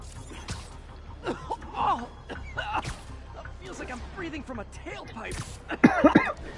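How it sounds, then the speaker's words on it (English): A character in the Marvel's Spider-Man Remastered video game coughs in a couple of harsh bursts, the loudest cluster near the end, with in-game speech and background sounds around it. "He coughed so much that I feel like I was coughing."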